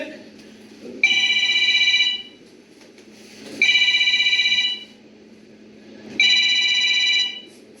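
Telephone ringing in a staged solo play: three loud, bright electronic ring bursts, each about a second long, repeating at steady intervals over a low background murmur.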